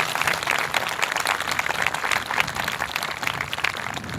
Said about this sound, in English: I'd ask for a round of applause for Michael Stern, our new distinguished tru